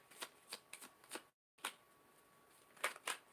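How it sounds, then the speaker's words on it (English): Tarot cards are shuffled by hand in quick, crisp riffling bursts, a few close snaps in a row, then a brief pause before more shuffling, with no speech. "I'm going to keep shuffling here"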